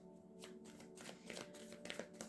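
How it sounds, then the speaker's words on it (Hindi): Tarot cards being shuffled and drawn, a quiet run of soft riffling flutters and papery slaps close by, with no voices. "और अब हम निकाल लेंगे मनी कार्ड्स।"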